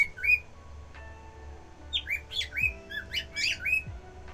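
A pet bird chirps and squawks in a run of sharp, bright calls with short whistled notes, close and fairly loud over a low steady hum.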